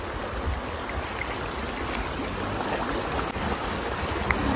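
A strong water current rushes over a dam crossing in a steady, dense, broadband roar, close and unbroken for several seconds without speech.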